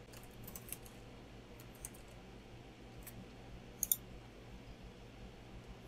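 Scattered quiet clicks and taps from a computer keyboard, a few light keystrokes with a small double click near the end, heard alone over a faint room hum.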